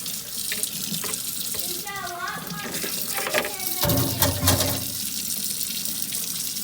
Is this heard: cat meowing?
no